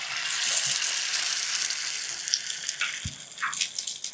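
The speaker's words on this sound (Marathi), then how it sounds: "याच प्रकारे पुढचे एग फ्राय करून घेते" An egg fries on a flat griddle, giving a close, continuous sizzle with light crackles and one soft clink partway through. No one speaks.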